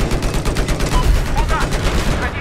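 Dense gunfire from the video game Battlefield 4: continuous rapid automatic shots and explosive cracks fill the whole stretch, loud and close, with no clear pauses.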